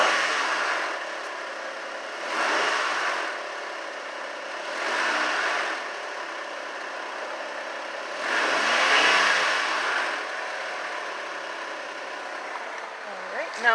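A 2008 Honda Ridgeline pickup engine with a slight engine noise runs steadily, heard from inside the cab, with several swelling revs rising and falling over the idle hum.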